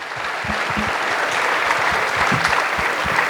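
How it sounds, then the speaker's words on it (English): An audience at a symposium on AI and entrepreneurship gives steady, dense applause, a loud, continuous wash of many clapping hands that lasts the whole stretch with no voices over it. "Can we have a round of applause for Pawan?"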